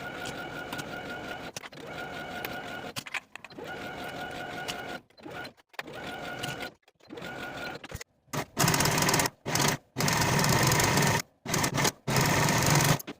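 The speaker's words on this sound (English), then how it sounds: "I'm going to sew all the way across with a 1/2 inch seam allowance" Sewing machine stitching straight across a dress skirt seam at a half-inch allowance, running in steady mechanical bursts with short pauses between them, close and fairly quiet, no voices.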